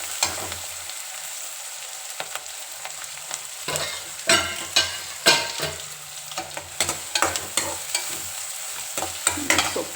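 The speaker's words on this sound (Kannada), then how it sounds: "ಬೇಗ ಈರುಳ್ಳಿ ಫ್ರೈ ಆಯ್ತದೆ" Onions frying in a pan for a leafy greens stir-fry, with a steady sizzle and irregular scrapes and clacks of a stirring spoon, close and alone.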